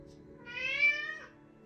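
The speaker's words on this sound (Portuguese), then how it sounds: "O gatinho tá chamando aqui." A kitten meows once indoors during a watercolor painting session, a single drawn-out, moderately loud call over a quiet background.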